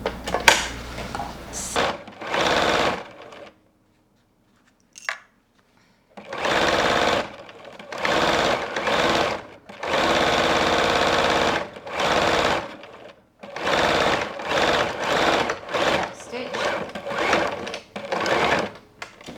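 Domestic sewing machine stitching a fabric bedside organiser, loud steady whirring runs in repeated bursts of a second or few, separated by short pauses and one longer silence, no speech.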